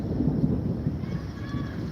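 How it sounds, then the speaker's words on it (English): Low rumbling thunder rolls steadily through a storm outdoors, a continuous deep grumble filling the background with faint rain or wind hiss, no clear distinct crack. "Okay, that is the thunder."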